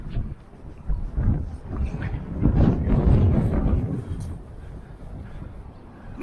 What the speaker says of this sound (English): Yeah, very windy down here.